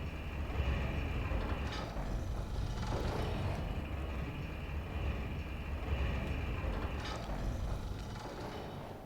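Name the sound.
elevator going up in the video game Bloodborne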